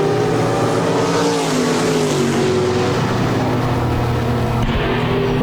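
RaceSaver sprint cars roaring at the green flag at Park Jefferson Speedway, a loud, dense pack of engines with rising, overlapping revs, filling the scene continuously.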